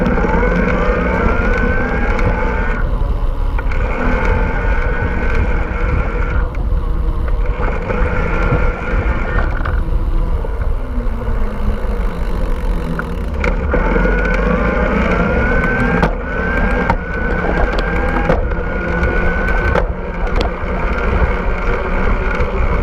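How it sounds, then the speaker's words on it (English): Bosch Performance Line CX e-bike motor in turbo mode, its highest assist, pulling in a relatively low gear, a continuous loud whirring hum with repeated rising pitch surges over heavy wind rush, no talking. "This is the Performance Line CX. I'm in turbo mode, which is the highest"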